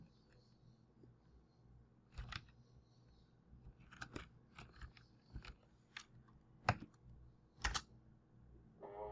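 Quiet computer keyboard typing, scattered keystrokes in short irregular bursts, close but soft, over faint room background during a software tutorial with speech around it.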